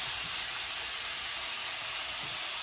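Filipino-style chicken sisig sizzles in a pan with a loud, steady, unbroken hiss that fills the whole stretch.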